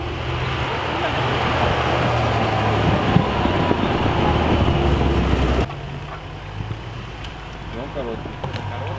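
A UAZ off-road vehicle drives on ice with a loud, rushing engine rumble that drops off sharply near the end, leaving quieter ambient noise, while people talk nearby.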